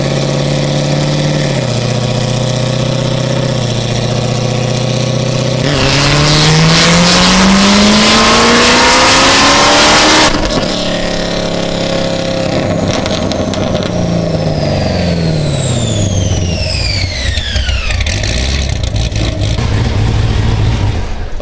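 Chevrolet C7 Z06 V8 with a big cam and Magnuson 2650 supercharger on a dyno, idling then revving hard through a rising full-throttle pull and backing off, loud and close, with supercharger whine and no talk.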